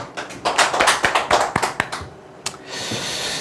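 A few audience members clap in uneven, close bursts for about two seconds, the claps thinning out into a soft hiss of room noise.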